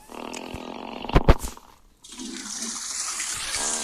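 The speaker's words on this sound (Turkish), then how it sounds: "sifona basılır" A toilet flushes after a few clunks, the rushing water starting abruptly and continuing as a steady hiss and gurgle, close and fairly loud.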